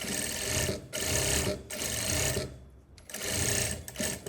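Sewing machine running in long bursts while backstitching the seam of a tailored skirt, loud and close, with the motor stopping briefly between runs.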